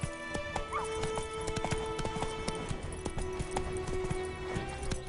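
In The Witcher 3, the horse Roach gallops in a rapid, continuous rhythm of clip-clopping hoofbeats close by. A brief neigh can be heard over the hooves.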